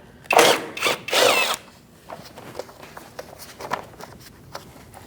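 Power tool removing a 10mm fastener from the front inner fender liner of a 2008-2014 Mercedes-Benz C300, two loud close bursts of whirring early on, followed by quieter clicks and handling noises.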